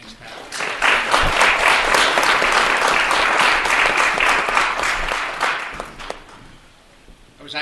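Applause from an audience at a public schools forum, a dense burst of clapping that swells quickly, holds steady for several seconds, then thins out and fades near the end.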